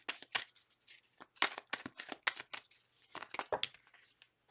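Tarot cards being shuffled by hand make a series of crisp, close riffling bursts in quick, irregular runs, fairly quiet, with no speech over them.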